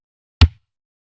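One short, thumping kick drum beat, close and dry, decaying quickly into silence with no other sound around it.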